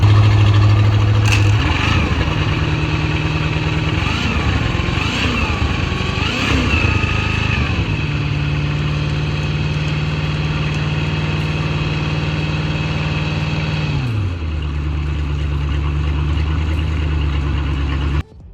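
An outboard boat motor runs on flush muffs, a loud continuous idle that revs up and down a few times in the middle, then settles back and drops to a lower idle before cutting off.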